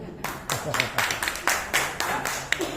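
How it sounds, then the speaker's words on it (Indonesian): An audience claps hands in loose, uneven bursts, close and moderately loud, while a voice speaks over the clapping. "Hidup buat mama, tepuk tangan mama."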